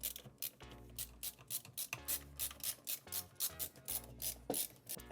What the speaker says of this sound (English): And we'll take our 5 screws and screw that guy back into place.